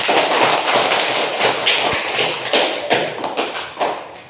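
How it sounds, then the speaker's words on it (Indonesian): A classroom of students claps for all the groups, a dense, uneven patter of hands that swells and thins over several seconds. "Aplaus untuk semua kelompok."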